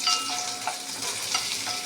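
Small onions sizzle steadily in hot oil, a constant crackling hiss with occasional soft pops, close and moderately loud.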